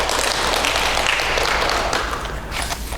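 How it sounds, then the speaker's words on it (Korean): A church congregation claps steadily to welcome their pastor back, a dense, even wash of hands that eases off slightly toward the end. "우리 박수로 환영합니다"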